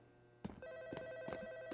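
A steady electronic ringtone from a phone in a video game starts abruptly and keeps sounding at moderate level, punctuated by a few sharp clicks.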